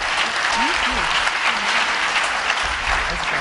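An audience at a New York conference breaks into applause: a dense, continuous patter of clapping that fills the room for several seconds.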